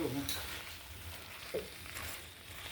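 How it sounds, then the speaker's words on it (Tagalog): Bitter melon (ampalaya) with egg sizzles softly in a pan, with a light stir and a faint scrape partway through and muffled voices in the background. "Ito yung ating ampalaya. At halu-haluin konti bago."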